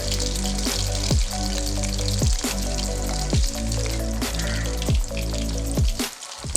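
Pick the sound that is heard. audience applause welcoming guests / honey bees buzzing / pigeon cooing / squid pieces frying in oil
squid pieces frying in oil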